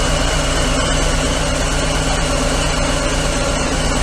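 A Harley-Davidson Sport Glide motorcycle engine idling loud and close, a steady low throbbing rumble with constant vibration and no pauses and no speech.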